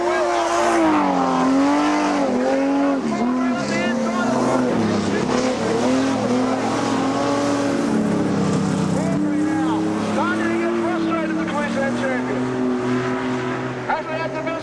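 Modified production race cars roaring around Kingaroy Speedway, engines loud and continuous with rising and falling revs as they pass, mixed with a steady crowd or announcer-style voice over the racing.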